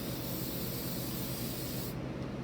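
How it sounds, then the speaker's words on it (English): A steady, close hiss of Super 77 aerosol spray adhesive, continuous and even for a couple of seconds, then cutting off sharply near the end. "So I'm going to get our spray 77 on there."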